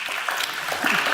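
Audience applause for speakers at the Global Solutions Summit, a brief burst of steady crowd clapping heard in the middle of it.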